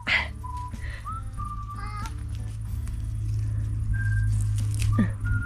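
Crow calling outdoors, a few short caws and whistle-like calls over a steady low hum and background noise, with a faint voice now and then.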